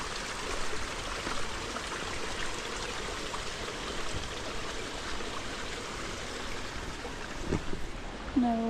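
A mountain stream beside a campsite in Linville Gorge rushes steadily with a broad, even wash of flowing water, near and continuous, with no voices over it.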